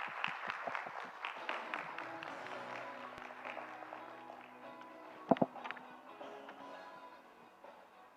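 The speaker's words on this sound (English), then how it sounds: "Please give him a big round of applause." Audience applause in a hall at an international symposium on radioactive waste safety management: a burst of clapping that starts fairly strong, with distinct hand claps early on, then thins and fades into a softer patter.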